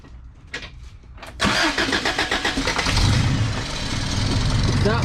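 A 1987 Toyota pickup with a new exhaust cranks briefly, then its engine catches and settles into a loud, throaty idle with a steady pulsing rumble, recorded up close and without talking.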